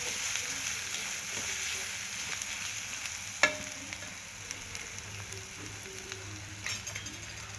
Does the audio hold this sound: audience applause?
no